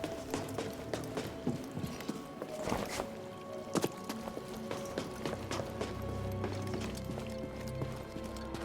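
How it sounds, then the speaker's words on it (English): Hooves of a goat-like creature in Star Wars Jedi: Fallen Order clatter in a steady running clip-clop, moderately close, over a busy game soundscape with thuds and hits. "Best watch out for that goat"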